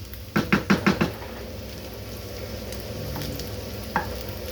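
Small shrimp fry with egg, onion and garlic in a pan, opening with four quick metallic knocks of a utensil against the pan, then a soft, steady sizzle with one more light clink near the end.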